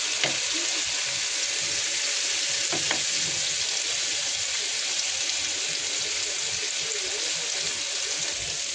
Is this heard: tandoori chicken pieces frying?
yes